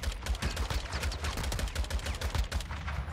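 Rapid automatic gunfire from a Warzone 2 match, a dense stream of loud, close shots crackling steadily for the whole stretch with no talk over it.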